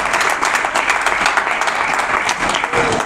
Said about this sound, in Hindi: तो बिल्कुल आप ताली बजा सकते हैं